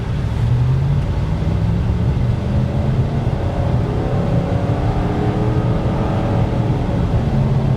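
A V8 Ford Taurus SHO accelerates hard with its engine note rising and falling through slow, sluggish gear shifts, loud and close throughout without any talking.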